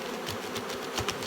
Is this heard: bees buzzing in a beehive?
yes